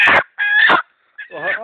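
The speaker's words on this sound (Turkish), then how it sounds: "tavuk da bağırır" Loud chicken calls, two long squawking bursts and a third after a pause, close and harsh with no talking.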